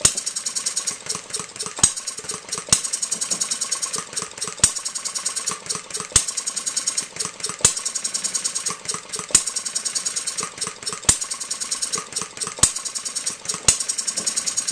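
Economy hit-and-miss model engine with a battery and points ignition running steadily, a busy mechanical rattle and whir broken by sharp firing pops at irregular intervals, loud and close, with no talking.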